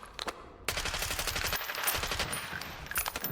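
Rifle fire in Warzone aimed at a training dummy 50 meters away: a few soft shots, then rapid automatic bursts, steady and close, running almost without pause.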